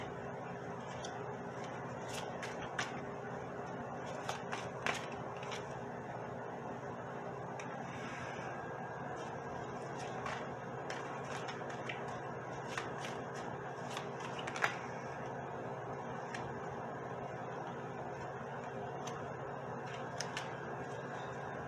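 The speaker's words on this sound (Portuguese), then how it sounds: "Mais 3 cartas para terminar a pirâmide." Tarot cards slid and laid out one by one into a pyramid spread, giving soft shuffling swishes and light taps over a steady background hum, no talk.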